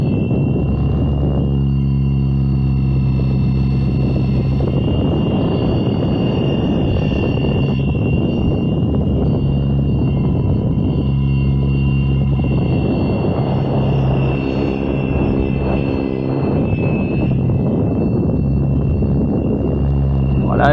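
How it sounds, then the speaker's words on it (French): A Fly Wing FW450 V3 RC helicopter flies close by with a loud, constant rotor and motor whine that stays level throughout, its pitch wavering slightly as it picks up speed. "je lui fais prendre un peu de vitesse, il est très puissant cet hélico"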